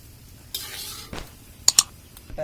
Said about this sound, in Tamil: ஒரு கப் கருப்பு திராட்சை. அப்படி நல்லா பொன்னிறமாக வறுத்துக்கலாம்.